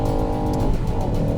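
A Ford Focus ST on a race track, its engine droning steadily loud and close with a touch of wheel spin blended into the continuous mechanical roar, no voices.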